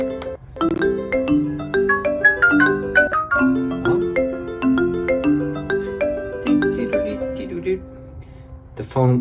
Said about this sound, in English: when someone comes by the house and rings your bell